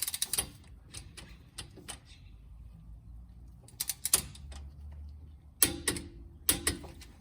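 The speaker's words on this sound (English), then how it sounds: "I like to use a torque wrench." A torque wrench is used on Jeep Wrangler differential bolts, making sparse sharp metallic clicks and ticks close by, spaced irregularly in an otherwise quiet space.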